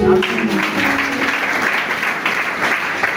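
Church congregation clapping and cheering together at a deliverance service, a dense sustained wave of applause with voices mixed in throughout.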